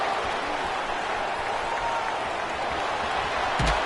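Dense, steady roar of a football stadium crowd cheering for Texas Tech on a third down, loud and continuous throughout with a brief louder thump near the end.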